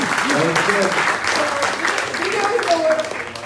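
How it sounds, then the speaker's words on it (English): An audience applauds at a 1 Million Cups startup event in Daytona Beach, steady clapping that runs throughout with voices and a few whoops mixed in. "round of applause for the famous hot drama"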